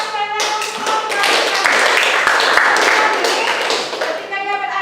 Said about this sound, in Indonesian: tepuk tangan sekali lagi untuk Bapak